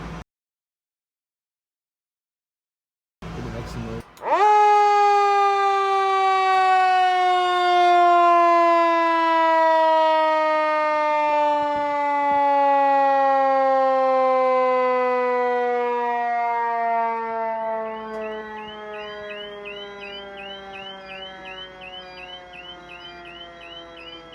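After a moment of silence, a loud mechanical fire truck siren winds up sharply and then slowly falls in pitch over many seconds, with a faint warbling tone near the end.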